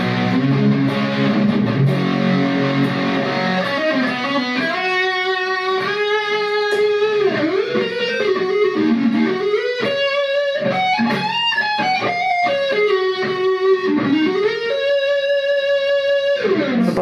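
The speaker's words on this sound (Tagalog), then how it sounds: "pero pag sinamahan ko pa ng vintage overdrive," Electric guitar played through a compressor and a vintage overdrive pedal: a warm, driven lead line of sustained bent notes and melodic runs after a few opening chords, up close and continuous for about seventeen seconds with no speech.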